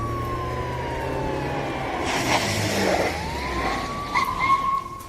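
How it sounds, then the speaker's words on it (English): A police siren wails steadily, sweeping in pitch as it draws closer, then its tone drops away near the end amid faint traffic noise. "you hear the sirens get closer and then suddenly stop"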